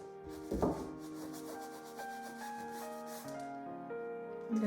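A sponge scrubbing acrylic paint across a canvas, producing soft, quiet rubbing strokes, close and gentle, under tonal background music.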